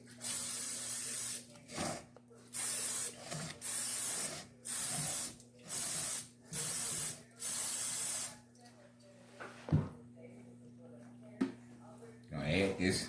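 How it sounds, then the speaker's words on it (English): Eight short cooking spray bursts hiss in a steady rhythm onto the sides of a pan, close and fairly loud, followed by quieter clatter and a few soft knocks. "I'm going to spray this down on the sides."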